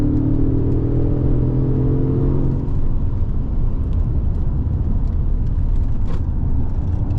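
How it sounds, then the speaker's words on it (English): A 2016 Mercedes-Benz S550 Coupe with a 7-speed automatic pulls hard, its engine tone climbing, then a shift at about two and a half seconds gives way to a broad road rumble inside the cabin. "7-speed automatic transmission is very responsive. It shifts when you need to."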